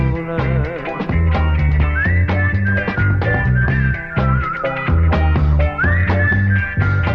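Whistling carries a melody over the band accompaniment in a recording of a Neapolitan song, long sustained whistled notes entering about two seconds in and returning near the end, prominent and close.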